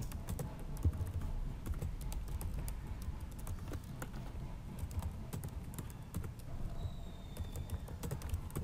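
Typing on a computer keyboard fills the whole stretch with rapid, close key clicks in an irregular rhythm, one person entering text steadily at a desk.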